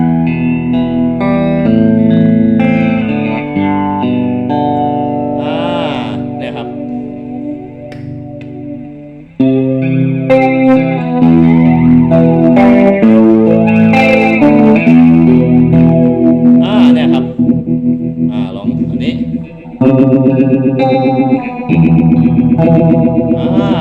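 Distorted electric guitar played through a JOYO DC15 amp with delay, notes and chords echoing and trailing continuously, loud and close.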